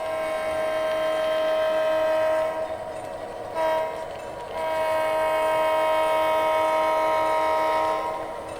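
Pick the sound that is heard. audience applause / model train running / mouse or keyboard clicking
model train running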